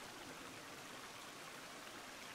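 Water flows in The Forest as a constant hissing rush, like a stream or waterfall, steady and fairly faint throughout with no voices.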